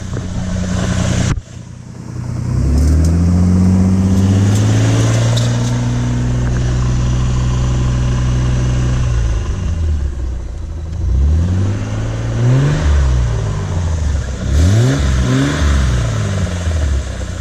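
A Nissan R31 car undergoing a manual gearbox conversion revs hard and loud up close, holding a steady high drone before dropping off, then blipping through several sharp rising and falling revs toward the end.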